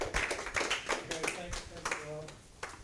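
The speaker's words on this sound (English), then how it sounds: "Applause." A startup talk audience claps for a speaker, with scattered sparse hand claps mixed with talking.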